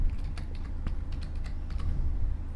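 Close, brisk keystrokes on a computer keyboard as a file name is typed, irregular clicks in quick bursts with no voice.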